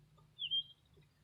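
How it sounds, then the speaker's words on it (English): A small pet songbird gives one brief, faint high chirp indoors against a quiet background hum. "It's a pretty songbird."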